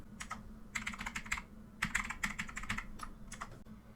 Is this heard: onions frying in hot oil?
no